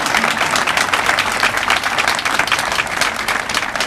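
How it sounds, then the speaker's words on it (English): Audience at a middle school ribbon cutting ceremony gives dense, sustained applause, loud and close, with no speech over it. "tell them we gave them a great round of applause"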